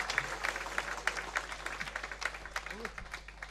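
Audience applause for a live female singer at a televised music show in the Vogelpark Böhl-Iggelheim: a steady, fairly faint wash of many hands clapping continuously, with no voices over it.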